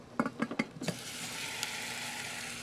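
Onions stir-frying in chili oil in a pan: a few quick clanks of a utensil against the pan, then a steady, fairly soft sizzle continuing alone.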